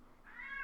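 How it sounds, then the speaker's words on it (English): A Bengal cat lets out a single short, rising yowl indoors, quite clear with no one speaking over it. "how obnoxious is my cat being? Hey, shush, noisy girl."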